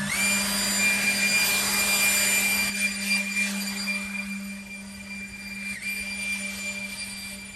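A Ryobi 40-volt battery leaf blower on its turbo setting gives a steady, high-pitched electric whine with rushing air, loud at first and then easing to a lower, quieter hum.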